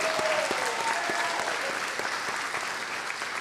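A large crowd at a university graduation ceremony applauds the graduates' supporters, a sustained wash of many hands clapping at a moderate distance, with no talking over it.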